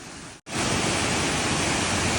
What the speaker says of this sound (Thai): แต่ที่นี่น้ำตกสวยมากทุกคน